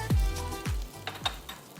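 Shallots, garlic and sliced ginger sautéing in a pan, with a few low thuds as pieces drop in, then soft sizzling and scattered scraping stirs close by, for a Kerala-style coconut milk shrimp curry.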